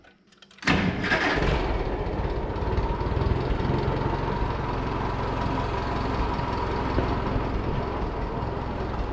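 A Super 44 tractor engine cranks and catches after a brief quiet moment, then settles into a loud, steady idle that runs on without pause.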